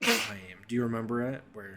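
A single sharp human sneeze bursts out at the start, loud and close, followed at once by a person talking.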